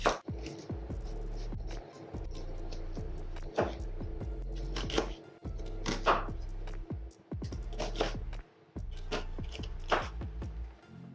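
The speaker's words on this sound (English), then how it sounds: "this is 200 grams of onion, which I'm just going to chop up" A knife chops 200 grams of onion on a cutting board, a series of close, crisp knife strikes in quick bursts separated by short pauses, with some scraping and handling between them.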